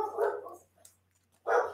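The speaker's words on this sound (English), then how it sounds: "freaking dog" A pet dog indoors at home lets out two loud, close barks separated by a pause of about a second.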